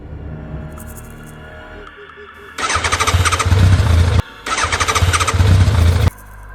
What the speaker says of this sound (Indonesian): "Pak, motornya rusak lagi ya?" tanya Dika